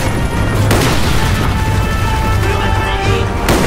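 Loud booming blasts and gunfire in the Call of Duty Black Ops mission Victor Charlie, a grenade going off amid dense combat noise, with sustained rumble and several sharp bursts.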